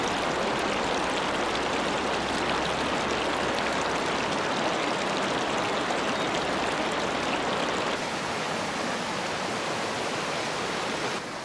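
A river runs steadily with a broad, loud rushing wash of water and no pause, close by and unbroken by any voice.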